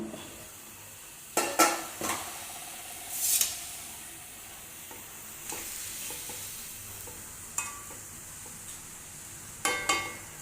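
A spoon stirs ground coconut paste into tender coconut flower thoran cooking in a pan, with scattered clinks and scrapes against the metal over a soft steady sizzle, close by and without talk.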